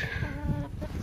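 A backyard chicken with scaly feet from mites clucks close by, a short burst of throaty clucks lasting about a second.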